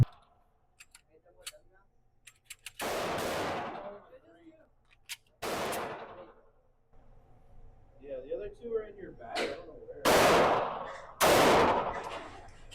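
A handgun empties its magazine at a shooting range, firing loud, sharp single shots spaced a second or more apart, with quieter ticks and clicks between them and voices talking nearby.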